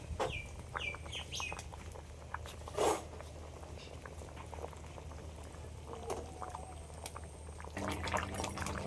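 A curry of potato and green banana with fried tilapia bubbles in a pot with a steady boil. Chickens cluck and birds chirp faintly in the background.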